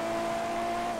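A race car engine in the GTA FiveM video game holds a steady, droning tone at high revs throughout, loud and continuous with no voices.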